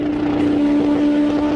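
Kawasaki sport motorcycle engine screaming at very high speed, around 326 km/h in sixth gear, a loud sustained steady high-revving drone with strong tonal whine, close and alone.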